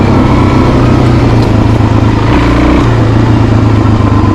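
A Suzuki DRZ400 dual sport motorcycle accelerates off-road, a loud, close, continuous engine roar mixed with heavy wind rumble and no speech.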